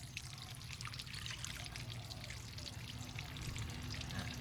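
Lotus tuber with its bud covered in soil lowered into a water basin, giving a steady close pouring and trickling splash of water that runs continuously without pause.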